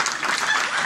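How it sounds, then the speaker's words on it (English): Crowd at a darts presentation night in Cleveland County clapping in a quick round of applause; a brief, dense burst of many hands, fairly loud and close. "Give them a big, big round of applause."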